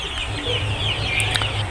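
Tiger Sonali layer hens on a farm cluck in a busy, overlapping chorus over a low steady hum, with a couple of sharper squawks standing out near the end.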